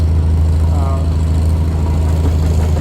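A traction engine runs at a steam show, a steady low rumble with a throbbing beat, fairly close and loud under outdoor ambience.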